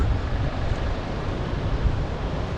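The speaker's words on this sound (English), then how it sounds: "And the waves there." Surf rolls steadily onto a beach at Gouritsmond, South Africa, a broad continuous wash of crashing water with heavy low rumble and some wind buffeting the microphone, with no voices.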